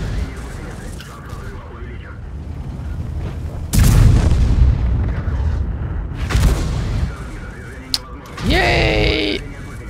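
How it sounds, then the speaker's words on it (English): Artillery shells hit a tank in the World of Tanks video game, with heavy booming impacts and rumbling blasts over continuous game noise, plus a sharp metallic crack near the end. "Something changed with Arty, because I just took 3 Arty hits and I lost all my health."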